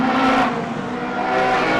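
Street stock race cars roar past on a racing circuit, a continuous loud engine drone with a slight pitch shift as the pack passes close by.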